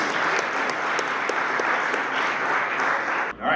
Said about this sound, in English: One more round of applause for Justin Fry.